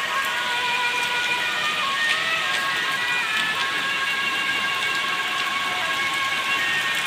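Heavy monsoon rain falling steadily as a dense, even hiss of countless drops, loud and unbroken throughout.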